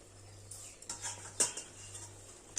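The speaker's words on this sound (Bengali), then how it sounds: "এবার চাপাটা তুলে নিচ্ছি" A metal lid is lifted off a cooking pot of mango chutney, giving a few faint close clinks and scrapes over a steady low hum, with no talking.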